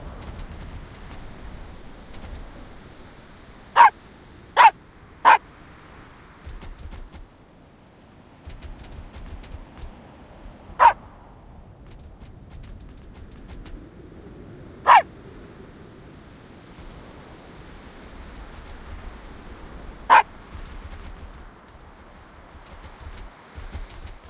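A dog in the video game Sneaky Sasquatch gives short, sharp barks, three in a quick burst and then three single barks spaced several seconds apart, over a quiet game background.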